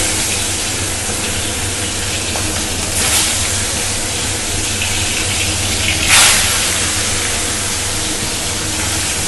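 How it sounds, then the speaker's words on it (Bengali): Tilapia pieces frying in hot oil in a kadai give a steady, loud broadband sizzle that fills the whole clip, with brief bursts of louder spitting now and then and no talking. "কড়াই দিলাম তেল গরম হয়ে গেছে। এবার আমি মাছগুলোকে আস্তে আস্তে ভেজে নেব।"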